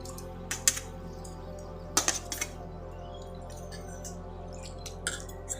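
Grated potatoes are rinsed in clean water in a home kitchen, with soft splashes, drips and light clinks from a bowl coming in scattered bursts, close and fairly quiet.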